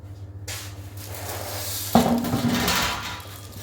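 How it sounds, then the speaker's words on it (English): Metal baking tray pulled from a kitchen cupboard, a soft rustle followed by a sudden clattering bang of metal and a short rattle as it settles, close by. "Let's get my baking tray."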